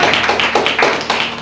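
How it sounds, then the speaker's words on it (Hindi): A church congregation clapping in rhythm during a Sunday sermon, quick repeated bursts of hand claps, close and loud, with no talking. "ताली मारो"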